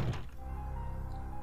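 In the survival-horror game Resident Evil Code Veronica X, a door opens with a single heavy thunk at the start, then a steady low ambient drone carries on alone.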